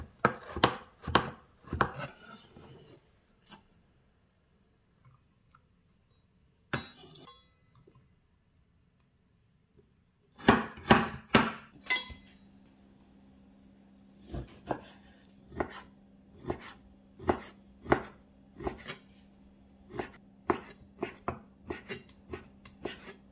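A knife slicing fresh ginger into thin strips on a cutting board, with sharp, close, rhythmic chops in quick bursts and short pauses, alone with no talk.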